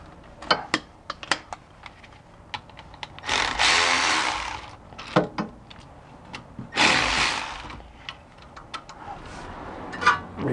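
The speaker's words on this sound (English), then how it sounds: "Switch into my longer ratchet, regular manual ratchet here, just to crack things loose." A manual ratchet clicks in short bursts while cracking bolts loose on a BMW E46 differential. The clicks are interspersed with sharp ticks and two longer, louder rasping sweeps, all close by.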